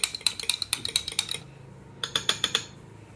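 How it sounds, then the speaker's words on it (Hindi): Curd is whisked in a bowl with quick, sharp clicking taps in a fast even rhythm. The taps pause briefly, then a second short burst follows. The sound is close and clear, with no talking. "75 ग्राम कर्ड को हम इस तरह से फेंट लेंगे"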